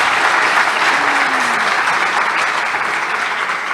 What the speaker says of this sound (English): I'd like everyone to give them a wonderful hand of applause